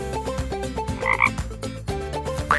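A voice imitates a frog's ribbit croak in a preschool learning program, giving a few loud, close croaking calls in a rhythmic pattern over steady musical tones.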